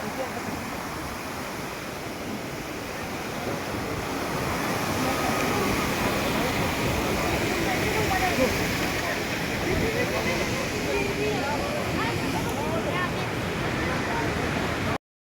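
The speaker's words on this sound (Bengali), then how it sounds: "ঝর্ণার জল" A mountain waterfall and stream on the Amarnath pilgrimage route pour in a continuous, dense rush of water that swells slightly and holds steady and loud throughout.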